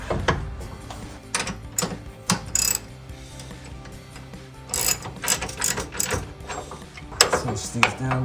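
Ratchet wrench on a 13mm socket with a long extension cinching down bolts while installing an Amp Research BedStep on a 2021-2023 Ford F-150, giving bursts of quick, close clicking with pauses between strokes.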